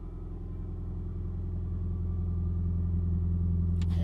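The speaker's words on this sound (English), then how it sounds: "A Subaru Forester with an electronic dump off the downpipe?" A Subaru Forester with an electronic exhaust dump off the downpipe gives a deep, steady, throbbing rumble up close that slowly grows louder, followed by a brief sharp knock near the end.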